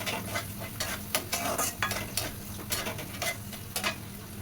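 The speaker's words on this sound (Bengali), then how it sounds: "পেঁয়াজটাকে একটু ভাজা ভাজা করি" Onion fries in a pan while a utensil stirs it, sharp scraping strokes repeating in an irregular rhythm over a low, soft sizzle, close and fairly quiet with no talk.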